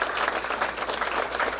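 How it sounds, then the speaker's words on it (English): Students at a welding and advanced manufacturing technology hooding ceremony give staff, parents and trustees a steady, full round of applause, dense clapping that holds evenly throughout. "Students, let's give them a big round of applause."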